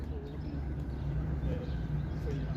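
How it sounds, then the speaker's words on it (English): On a warm Monday evening in downtown Toronto, a single bird calls outdoors with a few faint, thin chirps over a constant low city hum, while indistinct voices murmur nearby. "I like that one bird you can hear."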